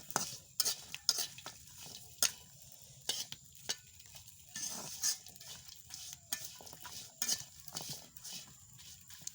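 Small fish tipped into a wok and stirred, with a low steady sizzle under repeated sharp scrapes and clinks of a utensil against the pan, close by and without talk.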